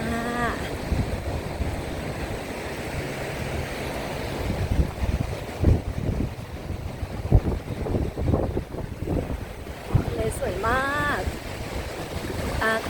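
Sea waves wash onto a beach in a steady, broad rushing wash mixed with wind noise, heard while walking along the shore, with someone talking briefly at the start and end.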